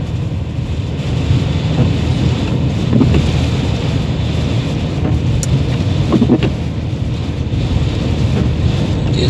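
A car driving through a snowstorm, with a loud, steady low rumble of engine and road noise mixed with buffeting wind across the microphone, continuous throughout with no voices.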